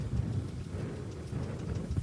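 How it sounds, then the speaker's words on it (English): Rain falls steadily during Hurricane Dorian in West Palm Beach, a soft, continuous outdoor patter with low rumbling wind noise underneath, moderately quiet and without speech. "it's actually been raining on and off"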